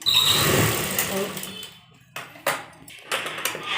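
An electric sewing machine stitching a one-piece A-line kurta, a close, fast mechanical whirr for a second or two, then a few short bursts of stitching and clicks.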